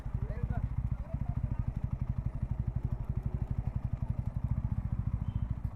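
A motorbike is parked at Devgiri Fort, its engine giving a close, steady rhythmic thumping idle throughout, with faint voices beneath.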